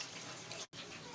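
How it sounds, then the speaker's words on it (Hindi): Water pours steadily into a cooking pot for chicken biryani, a continuous broadband splashing rush broken by one brief pause, close and fairly loud with no talk over it. "अब हम इतना पानी ऐड करेंगे कि इसमें चिकन भी गल जाए और चावल भी दम पे आ जाए।"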